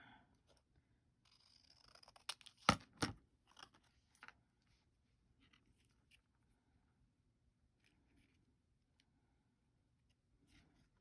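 Scissors snipping paper scraps for cards or journal inserts, a short cluster of crisp cuts early on, then mostly quiet with faint rustles, close and alone.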